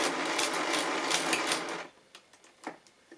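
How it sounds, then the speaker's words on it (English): Archimedes Model D mechanical calculator being hand-cranked, a rapid run of dense mechanical whirring and clicking for under two seconds, then a few scattered sharp clicks and clunks as the mechanism settles. "So I turn the crank 6 times."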